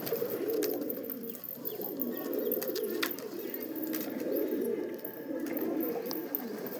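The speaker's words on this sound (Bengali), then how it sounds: "এটা কিন্তু দেশি পায়রা" Domestic local pigeons coo steadily in a low, continuous murmur, with several birds overlapping throughout, alongside occasional sharp clicks and rustles nearby.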